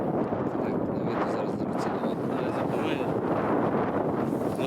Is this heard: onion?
no